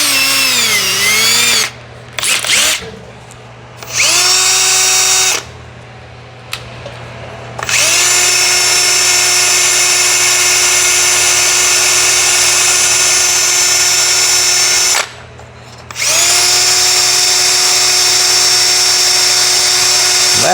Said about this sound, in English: let's get our little wire brush in our drill